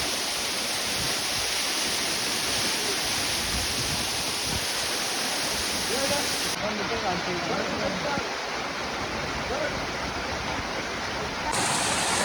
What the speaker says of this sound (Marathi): खूप मोठा पाऊस पडत आहे आणि ह्या पाण्यातनं आम्ही जात आहे